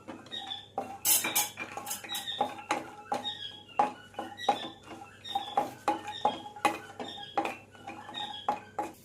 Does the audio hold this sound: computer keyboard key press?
no